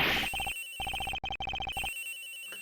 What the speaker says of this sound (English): we're just gonna ring the fucking phone